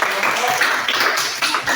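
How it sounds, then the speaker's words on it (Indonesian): A grade 6 classroom of pupils applauding together, a dense, continuous patter of many hands clapping at close range for a short burst. "Tepuk tangan."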